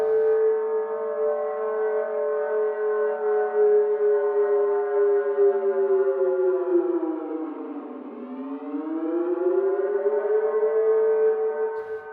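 A synthesized recreation of an air raid siren sustains a loud, steady wail that dips sharply in pitch and then climbs back up, heard alone without speech.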